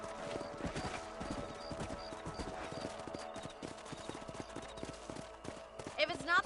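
Horse hooves clip-clop at a steady trot while riding in the Western video game Red Dead Redemption, with a ranch setting, a faint whinny near the end and people talking over the hoofbeats.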